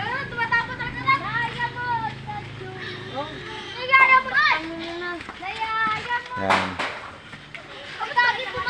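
Children play and chatter at home while spaghetti is cooked, with excited high voices and shouts, some close and some farther off, and one loud shriek near the end.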